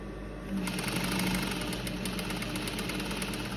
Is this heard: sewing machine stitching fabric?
yes